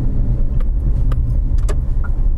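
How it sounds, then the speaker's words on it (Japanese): A car moves along a narrow one-way street busy with pedestrians. Its engine and tire rumble stay loud and steady throughout, with a few faint clicks and rattles on top and no voices. "右側から車が来ますので気をつけてくださいね"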